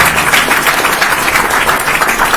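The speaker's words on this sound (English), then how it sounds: "please give a big round of applause to the Rotaract leader" Dense, loud audience applause at a Rotaract Club installation ceremony, many hands clapping steadily together in a sustained wash of sound with no pauses.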